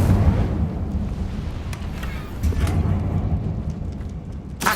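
An Incendio fire spell cast in Hogwarts Legacy, a deep rumbling roar of flame with low booming bursts, loud and continuous, ending in a sharp crackle.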